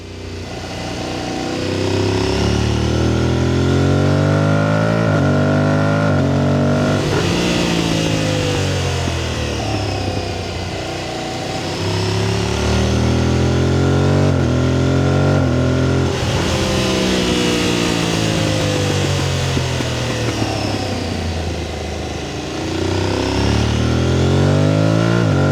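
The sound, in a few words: motorcycle engine recorded by DJI Mic Mini on fuel cap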